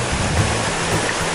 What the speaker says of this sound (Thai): ถึงนี่แหละครับน้ำตกไซโยกน้อยเดี๋ยวไปชมกันครับ